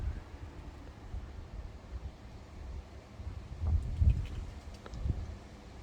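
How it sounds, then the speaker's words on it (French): Gusts of foehn wind from a storm rush through trees, a low broadband roar that swells and builds to stronger surges near the end, with no talking. "Oula, c'est le vent derrière, j'entends."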